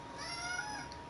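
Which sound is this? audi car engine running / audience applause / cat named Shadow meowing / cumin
cat named Shadow meowing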